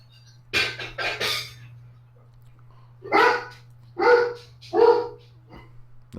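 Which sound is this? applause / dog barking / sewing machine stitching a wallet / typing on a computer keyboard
dog barking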